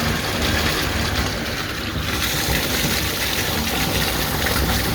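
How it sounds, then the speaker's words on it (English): Rainwater rushing through a drain pipe with a clogged leaf filter, a steady broadband wash of flowing water, close and continuous throughout. "Boy, you can really hear the rain coming in."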